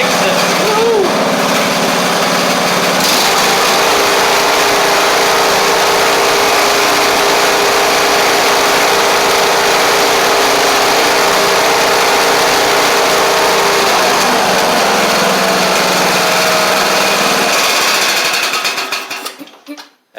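A Craftsman YT3000 riding mower engine runs steadily after a carburetor swap, a loud continuous drone holding for about twenty seconds before cutting off abruptly at the end.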